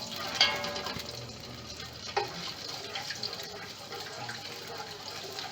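Curry leaves dropped into hot oil for a home-cooked fish curry give a soft, steady sizzle with a couple of sharp clinks from the pan, heard faint and close with no talking.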